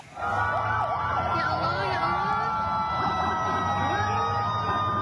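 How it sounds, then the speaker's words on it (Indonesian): Ambulance sirens wail continuously from dozens of ambulances rushing students to a hospital in West Bandung, Indonesia, the rising and falling tones loud and close over traffic noise and a voice talking. "Suasana pun mencekam saat puluhan ambulans berkejaran dengan waktu membawa para siswa ke Rumah Sakit Cililin di Bandung Barat."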